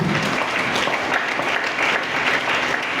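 A church congregation at a youth convention claps together, giving dense, sustained applause that fills the room evenly for a few seconds.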